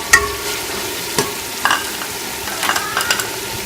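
Peas, carrots and potatoes stir-fried for vegetable fried rice, with a steady soft sizzle and repeated light spatula scrapes and clinks against the pan, close and alone.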